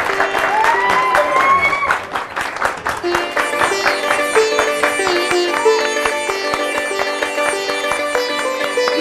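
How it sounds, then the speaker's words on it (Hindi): Applause from a studio audience at a competition result announcement in a Hindi TV drama; clapping bursts under a loud, sustained musical fanfare, with the clapping strongest early on and fading into the music. "तालियां।"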